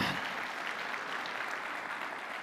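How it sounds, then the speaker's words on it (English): An audience at a sports kickoff luncheon claps in sustained, dense applause, steady and fairly far off, with no break through the moment. "Let's give it up for them one more time."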